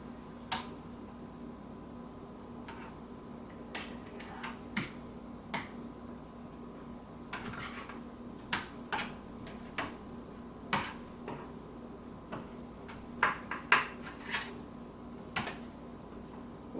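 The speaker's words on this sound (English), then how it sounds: "Okay, so we've flipped them all over" Potato planks are flipped over one at a time in a Tupperware Micro Pro Grill, making sparse, quiet clicks and light plastic taps, irregular single ticks spread out over a near-silent background.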